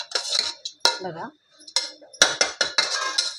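Metal spoon stirring eggplant rice in a cooking pan, a series of sharp scraping clinks and clatters in irregular bursts, close by, with a brief word spoken amid the stirring.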